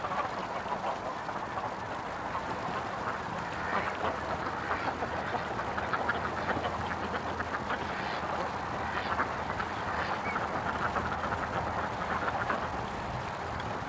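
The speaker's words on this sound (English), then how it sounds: "Little duckies. They're quite vocal actually. I'm surprised how loud they are." Ducks quack loudly and repeatedly in a busy, continuous chorus, with calls overlapping throughout and no voices.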